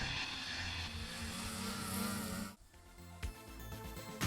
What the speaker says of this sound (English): The Ace 900 is a 120-degree firing motor, which is the right way for a 3-cylinder 4-stroke motor to sound.